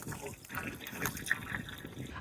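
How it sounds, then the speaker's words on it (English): Water runs into a sailboat's freshwater tank during a refill to flush soapy residue from the system, a steady close gurgling and rushing flow over a short stretch. "So we're going to refill the tank and flush the system one more time."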